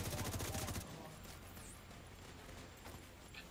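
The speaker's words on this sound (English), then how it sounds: "I got somebody shooting me from, I'm not sure where" A rapid burst of automatic gunfire during a six-man raid in a video game opens at moderate volume, then gives way to quieter scattered shots and faint background noise.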